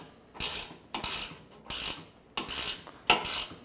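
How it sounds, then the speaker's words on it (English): A ratcheting wrench clicks in five rapid bursts as it tightens 13 mm bolts on a full-length steel front bumper for a Jeep Wrangler JL Unlimited, each burst a close, crisp run of pawl clicks separated by short pauses. "I'm going to use a ratcheting wrench"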